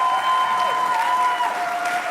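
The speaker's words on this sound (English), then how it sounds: "give yourselves a round of applause." A studio audience at a ballet dance competition applauds steadily, a brief even wash of close clapping with faint voices underneath.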